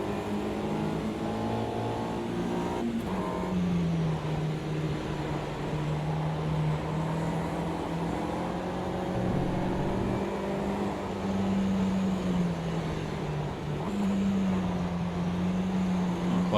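A 1965 Mini Cooper S races on a wet Buenos Aires circuit in a racing sim. The engine holds a steady droning note that rises and dips with gear changes, under a constant wash of road and spray noise.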